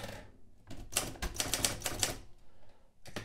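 A manual typewriter set to single line spacing clatters through a quick run of sharp keystrokes and bar strikes, close and loud, with a short pause before a final pair of taps.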